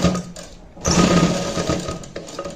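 A simple sewing machine stitches a hook-and-eye into a blouse, giving a rapid mechanical whirring rattle that starts abruptly, runs steadily close up, then eases off near the end.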